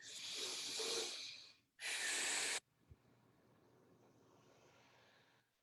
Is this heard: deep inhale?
yes